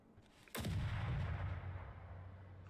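A grenade explodes in the war game Call to Arms with one sharp, heavy blast, followed by a long rumbling decay that slowly fades.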